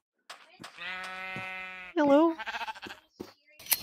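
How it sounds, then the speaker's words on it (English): A Minecraft sheep gives one long, clear bleat in a game world, followed by a short burst of a voice and a few small clicks. "We're gonna have to shear some sheep real quick."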